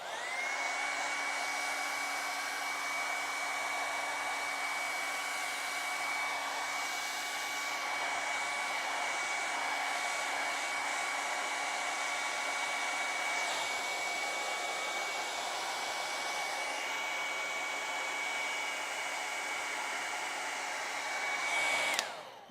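Hair dryer blowing steadily to dry acrylic paint on a penguin painting, a loud continuous whirring hum with a whistling tone that runs unbroken, then a brief rise and click as it switches off at the end.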